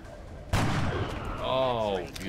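A single sharp gunshot from the video game XCOM: Enemy Within cracks out loudly, followed by a short ringing tail as a voice speaks over it.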